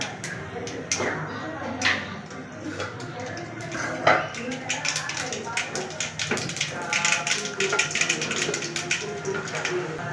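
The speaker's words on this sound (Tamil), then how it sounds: "கடுகு நல்லா பொரிஞ்சு வந்துடட்டும்" Mustard seeds spluttering in hot oil in a pan, a busy stream of sharp crackles and pops at varied intervals, close and moderately loud, with a person talking intermittently over them.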